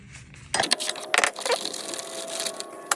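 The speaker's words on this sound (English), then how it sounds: "then you're going to turn this wrench counterclockwise. It might be a little difficult to break that nut." A wrench works loose the blade nut on a Black & Decker Edge Hog edger, with a run of close, sharp metallic clicks and clanks, some spaced apart and some in quick bursts.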